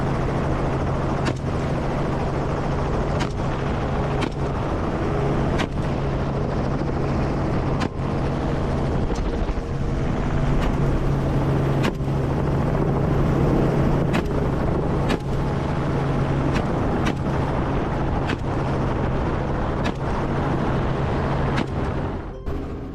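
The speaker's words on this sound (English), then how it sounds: "The helicopter changed direction, flying in circles over the forest" A helicopter flies low circles over a forest while chasing wild boars, its rotor thumping in a steady rhythm under a loud, continuous engine drone that stays close throughout.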